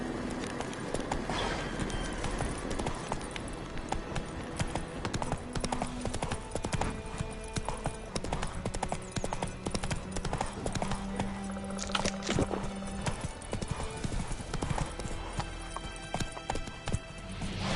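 Roach, the horse in The Witcher video game, gallops with rapid, even hoofbeats over a dense wash of game ambience, and a brief whinny comes through.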